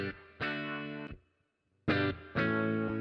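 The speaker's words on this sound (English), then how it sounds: "Let's get the classic Univibe sound going here." A Univibe effect from IK Multimedia's MixBox processes a sustained instrument tone in two bursts separated by a silent gap, the pulsing, throbbing modulation swelling through rich harmonics with no voice present.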